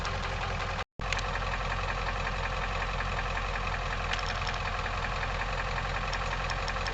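A 7.3 diesel truck engine running on used cooking oil idles steadily and close by, a dense continuous rumble with a brief dropout near the start and no voices.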